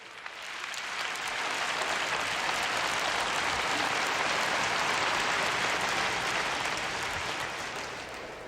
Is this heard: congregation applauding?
yes